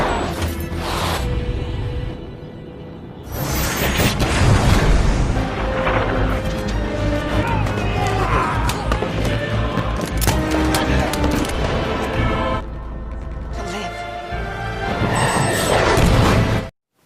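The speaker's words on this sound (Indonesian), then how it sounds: "Dan aksi ricuh dan tembak-tembakan pun terjadi." A chaotic gunfight scene from the 2008 film Babylon A.D. with loud bursts of gunfire, crashes and booms layered over dramatic score, continuous and intense throughout with brief quieter gaps.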